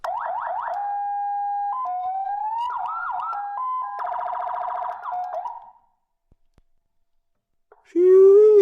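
A restored 1990s monster truck's PA system cycles through electronic siren effects, warbling yelps and wails that stop abruptly. After a pause, a brief louder siren burst follows.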